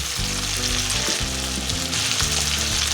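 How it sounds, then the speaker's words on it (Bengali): Ground turmeric, coriander, cumin and Kashmiri chili powder fry in a pan over low heat for a vegetarian cabbage kofta curry, a steady, close sizzle that runs throughout with no talking. "এবার মশলাটা অল্প আঁচে ভালোভাবে কষিয়ে নিচ্ছি।"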